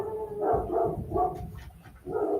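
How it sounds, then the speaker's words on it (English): Several dogs barking inside a house, locked upstairs, in a series of loud, close, repeated barks with short pauses between them. "I don't know if you can hear those other dogs"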